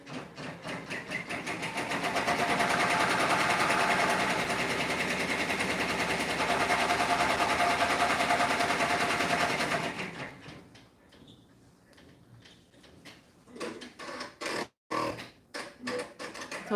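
An embroidery machine stitches the contour of an Easter bunny toy ear on stabilizer, a rapid, even mechanical chatter for about ten seconds, then stops, followed by scattered faint clicks and handling noises.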